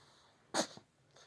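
A dog gives a single sharp sneeze indoors, close and fairly soft, with a faint snuffle right after and a quieter breathy follow-up.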